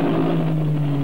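1957 racing cars at the Nurburgring during the German Grand Prix, Ferraris chasing Fangio's Maserati, a loud, sustained engine drone with a steady pitch filling the whole short moment, with no talking.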